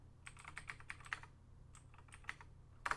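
Someone types a terminal command on a computer keyboard, quick irregular clusters of soft key clicks with short pauses, quiet and close.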